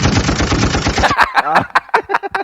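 A gunfire sound effect goes off by mistake during a studio podcast: a loud, rapid machine-gun burst for about a second, then people talking and reacting.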